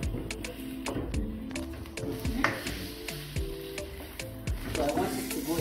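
Minced meat frying with butter in a pan, a close, continuous sizzle broken by regular sharp taps and scrapes of a utensil against the pan, with no talking.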